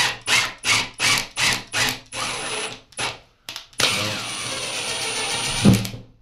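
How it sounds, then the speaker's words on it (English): A screw is driven into a sheetrock wall to test for backing, with a power driver whirring in several short, regular bursts followed by a longer continuous run. "We'll just test it with the screw to see before we drill a hole"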